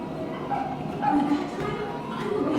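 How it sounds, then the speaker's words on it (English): Dogs in a dog kennel at a Titanic museum in Pigeon Forge, Tennessee, yip and bark repeatedly over a busy room tone with faint people talking in the background. "with our dog kennel, they can meet Madame Frou Frou, one of our favorite dogs"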